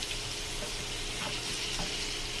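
Biscuit breakfast food fries in a pan with a steady, dense sizzle that stays loud and even throughout, with no talking.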